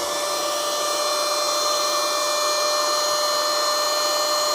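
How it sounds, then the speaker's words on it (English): Small handheld vacuum cleaner running steadily and loud throughout, a continuous high-pitched motor whine with no pauses and no talking. "This is a small vacuum cleaner."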